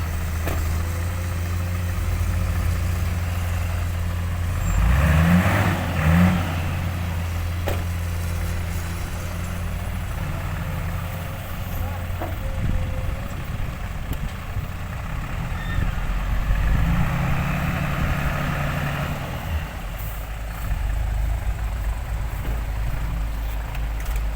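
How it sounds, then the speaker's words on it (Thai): A low engine rumbles steadily throughout, with a heavier revving surge near the start and another later, like a tractor working nearby. "อ้าวรถไถ รถไถมาแล้ว"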